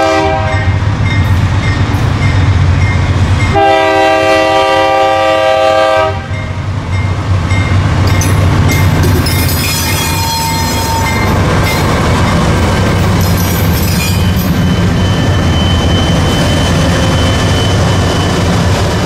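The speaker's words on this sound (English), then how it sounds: "This is a Dash 8 duo, the same duo that I saw back of July" A pair of GE Dash 8 diesel locomotives hauls a freight train past, horn blasting in a long sustained call over the steady rumble and clatter of rolling cars, loud and close throughout.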